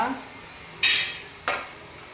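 A plate carrying uttapam made on a cast iron griddle is set down in a kitchen, giving two quick bright clinks of crockery about half a second apart against a quiet background.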